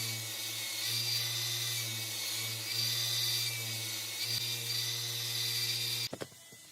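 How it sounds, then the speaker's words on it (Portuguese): A belt sander drones steadily while polishing a small wooden part for a Chevrolet D20 bumper model, holding a constant whine with slight load changes before cutting off abruptly near the end. "agora é só mesmo polir utilizando aí a lixadeira de cinta"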